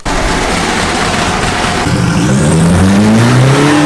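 A VW Passat engine, sitting with a roof-mounted steering wheel, roars loudly and continuously close by, its pitch rising as the revs climb toward the end.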